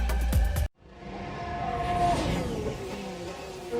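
Formula 1 car on a circuit at the British Grand Prix: a brief loud burst cuts off, then an engine whine rises and fades as the car passes at a distance.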